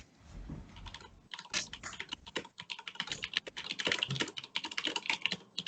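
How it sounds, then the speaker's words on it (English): Fast, busy typing on a computer keyboard, with dense irregular clicks and key strikes filling most of the clip. A short pause comes early, then the typing runs steadily and closely, with no talking. "It's a lot of typing."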